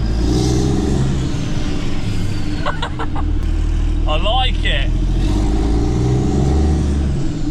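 A large truck engine, just started with a 24-volt jump starter, rumbles steadily and revs loudly while someone speaks briefly over it, with a few clicks and a short squeak midway.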